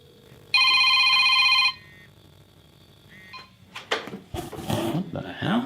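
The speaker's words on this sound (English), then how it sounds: "I got a mysterious phone call." A telephone bell rings once in a loud, electronic burst lasting about a second, followed by quieter clicks and then a voice answering the call.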